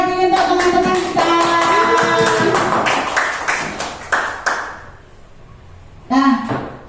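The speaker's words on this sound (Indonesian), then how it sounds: "Ayo beri tepuk semangat lagi untuk teman-teman kita" A group gives a spirited rhythmic clap in a classroom or workshop setting, a quick series of loud close claps followed by a pause and a final burst, with voices mixed in.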